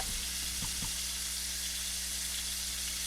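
Stuffed chicken, filled with spinach and cream cheese, sizzles steadily in a hot pan as it browns, a constant close frying hiss with a few soft clicks near the start.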